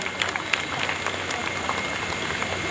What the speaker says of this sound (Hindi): तो एक बार इस महीने के लिए, इस सीजन के लिए जोरदार ताली बजाइए प्लीज